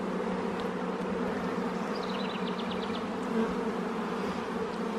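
Honey bees swarm around an open beehive during an inspection, their dense, steady buzz loud and close throughout, with a few louder individual bees passing by.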